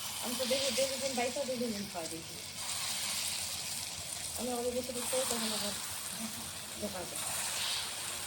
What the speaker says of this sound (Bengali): সর্ষের তেলে ডালের বড়াটা ভাজবো